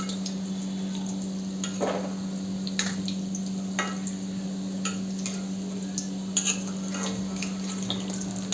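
Moong dal pakoda fry in hot oil, a steady close sizzle with intermittent sharper ticks and pops, unbroken by talk.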